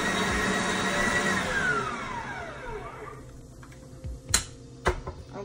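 An electric mixer whirs steadily while beating a homemade ice cream mixture, its pitch slowly falling as it winds down, followed by a few sharp knocks near the end.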